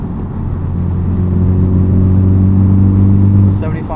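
A 2023 Honda Civic Type R with a muffler delete cruising uphill, its exhaust a steady mid-pitched drone with a smooth, even tone close by, ending with a brief pair of higher sounds near the finish.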